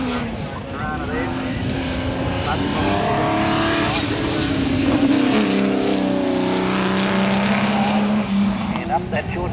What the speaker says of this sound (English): that's big V8 as he puts the power into it and goes up there into the S's